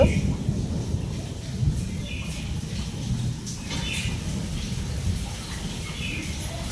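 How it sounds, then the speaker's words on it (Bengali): Steady rain falls during a rainstorm around a house where water has pooled, a continuous broadband wash with faint bird chirps on top and someone speaking over it. "এই দেখো এখনও বৃষ্টি পড়ছে"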